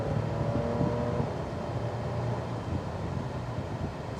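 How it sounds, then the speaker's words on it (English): A Toyota FJ Cruiser, a four-wheel-drive SUV with 250 horsepower, accelerates on the road, its steady engine drone and tyre roar holding close and fairly loud throughout with a rising tone early on. "Let's just go ahead and give it some gas right away. Takes a minute to kick in."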